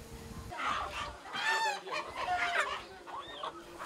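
Indigenous poultry chickens clucking close by, a busy run of short squawks and clucks from several birds in quick, irregular bursts over faint background noise.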